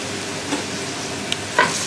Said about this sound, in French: On va bien mélanger ensemble